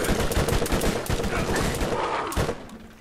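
Rapid, close bursts of gunfire from Borderlands crackle in dense succession, loud and continuous before tapering off near the end.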